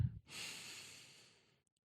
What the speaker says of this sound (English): So breathe in